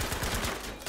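Automatic gunfire crackles in Battlefield 5 combat, a quick run of rapid repeated shots lasting under a second, moderately loud with a dense rumbling tail.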